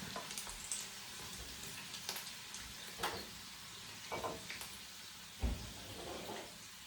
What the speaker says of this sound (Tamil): இப்போ பாருங்க, எண்ணெயில் பொரியுது. இப்போ பாருங்க, இந்த சீ ஃபுட் வந்து பொரிஞ்சிட்டுது.